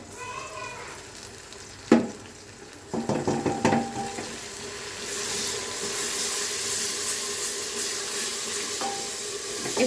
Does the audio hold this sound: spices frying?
yes